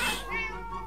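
A single short cat meow from the Minecraft video game, clear and close, lasting under a second with no talk over it.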